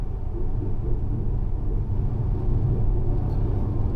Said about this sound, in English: sure that's a thunderstorm